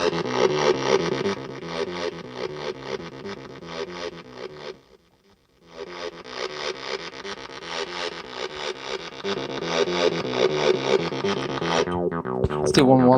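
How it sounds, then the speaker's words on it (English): Electric guitar played through a modified Rocktek distortion pedal, giving a gritty, sustained, buzzing tone that rings continuously, briefly drops out near the middle, then resumes and ends with a scraping pick or string noise. "Listen to the subtle difference this distortion makes."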